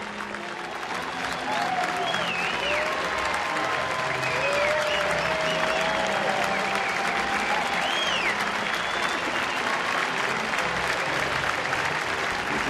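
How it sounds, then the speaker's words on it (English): Big baseball crowd in Atlanta roaring and applauding after a 2,000th big-league hit, a dense, sustained wash of cheers and whistles that stays loud throughout. "And listen to the crowd in Atlanta."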